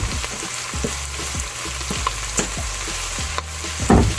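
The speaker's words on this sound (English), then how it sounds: "And this is browning just like hamburger." Plant-based meat substitute sizzling steadily as it browns in a pan, with a spatula scraping and stirring in a regular rhythm, close and loud, no talking.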